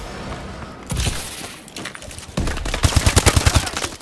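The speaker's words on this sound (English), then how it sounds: "I wish the AK had more freaking fire rate, because this is ridiculous. Plus, I have a suppressor on" A suppressed AK rifle fires in the Advanced Warfare video game, scattered muffled shots followed by a rapid burst of about eight evenly spaced rounds, with faint game effects in the background.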